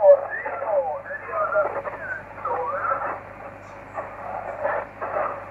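Crackly shortwave amateur radio noise with a faint, warbling voice from an Australian VK4 station drifting in and out, band-limited and steady throughout.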